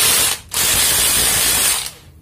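A used cordless Makita drill/screwdriver running under test, a loud, close, high-pitched motor whir that briefly dips, spins back up, then winds down.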